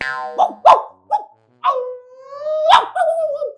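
A human voice mimics a dog, producing a few short yelping barks followed by a longer drawn-out whining howl, close and clear with no other sound behind it.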